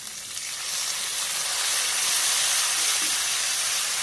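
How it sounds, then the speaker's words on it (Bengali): Continuous loud sizzling hiss of vegetables frying with spices in a pan, steady throughout with no talking. "মশলা দিয়ে ভালো করে ভাজা ভাজা করে নিই।"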